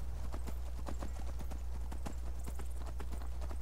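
Horse hooves clip-clop steadily at a riding pace in Skyrim near Dragon Bridge, a quick regular beat of close, distinct hoof strikes over a constant low game hum, with no talk.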